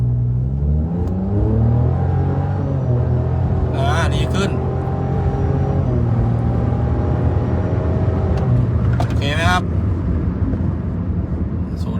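Tuned car on its stock single-tip exhaust, accelerating hard in S gear with a loud, sustained engine roar that rises in pitch through two gear changes, heard from close by.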